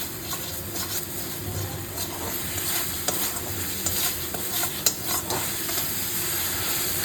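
Spices and garam masala frying in a pan for a fish curry, a steady close sizzle with stirring scrapes and a few brief clinks, no talking.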